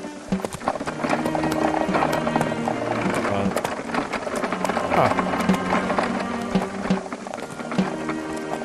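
Hooves clip-clop in a steady, quick rhythm over a busy soundscape in the game Syberia, with a horse whinnying briefly amid the clatter.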